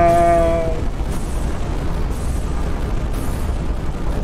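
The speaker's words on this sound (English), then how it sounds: "Kaboom. Explosion." A loud video game explosion in Turnip Boy bursts at the start with a ringing tonal sting, then a dense rumbling roar that stays steady for several seconds without speech.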